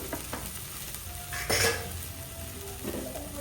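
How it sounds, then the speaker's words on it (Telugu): Cumin seeds sizzle in hot oil alongside half-cooked okra in a frying pan, a steady crackling hiss with a brief louder burst and some stirring and utensil clinks, with no talking. "మనం ఆ ఆయిల్లో ఫస్ట్ జీలకర్ర వేసుకుందాం."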